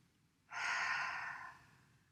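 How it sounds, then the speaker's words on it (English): A single long open-mouthed exhale during a guided breathing exercise, a soft airy breath rising sharply, holding for about a second, then fading gently, close and alone. "Open mouth, exhale."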